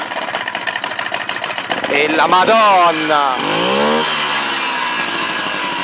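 A vintage Motom Daina moped's small two-stroke engine coughs through rapid first firings, then catches and revs up and down in loud, close, rising and falling whines, while a man exclaims in Italian over it.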